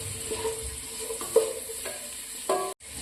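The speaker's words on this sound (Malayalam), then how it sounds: "ചെറിയ ഉള്ളിയൊക്കെ ഒരു ഗോൾഡൻ കളർ ആകണം കേട്ടോ. അതുവരെ നമുക്ക് നല്ലതുപോലെ വഴറ്റിയെടുക്കാം." Small shallots sauté in a pan for Kerala-style beef pepper roast with a constant sizzle. Clattering stirs and scrapes of the spoon come up close, and a short cut of silence falls near the end.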